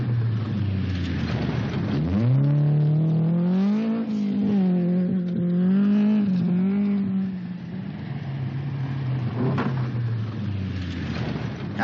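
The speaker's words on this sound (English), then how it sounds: "Colin Bond will act as a buffer between teammate Greg Carr and the challenging Datsun of Jeff Portman, who is consistently matching the Fords" A 1979 Australian rally car, Ford or Datsun, roars past at full throttle, its engine note rising and wavering as it revs through gears, loud and close before fading slightly.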